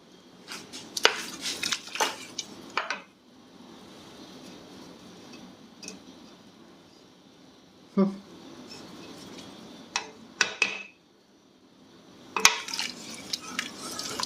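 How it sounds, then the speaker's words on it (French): A spoon stirs a pot of berkoukes, Algerian small pasta cooked in milk, making quiet, scattered metallic clinks and scrapes in short bursts separated by near-silent pauses. "Je vais le mélanger avec une cuillère."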